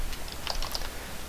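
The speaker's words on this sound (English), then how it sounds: "you could just start typing the system.out." Typing on a computer keyboard while writing Java code, with a few soft, quick key clicks in a short, quiet burst.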